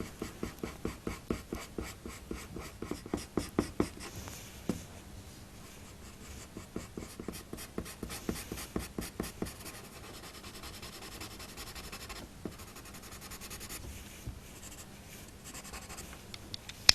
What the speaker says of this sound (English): Just going to use the blender pencil again